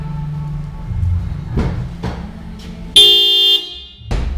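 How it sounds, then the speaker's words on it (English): A car's stock factory horn gives one short, loud honk of about half a second in an enclosed garage, with mechanical clunks and knocks before and after. "Here's the factory horn."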